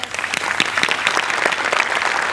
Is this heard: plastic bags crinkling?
no